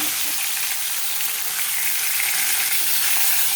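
Boal fish sizzling in hot oil in a home kitchen, a steady, loud hiss of frying that runs unbroken for several seconds with no voices.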